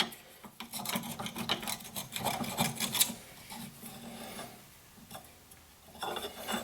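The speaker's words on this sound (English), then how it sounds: "I'm gonna take you a cutting knife. We're gonna get all this excess off that we can," A cutting knife scrapes excess sealant off the rear cover of an SR20 engine, producing repeated close rasping strokes in bursts with short pauses between them and no talking.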